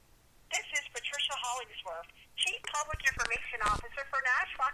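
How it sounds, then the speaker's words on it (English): A telephone rings with an incoming call, its electronic tone pattern sounding close and fairly loud, repeating over a few seconds with no one speaking. "got a phone call"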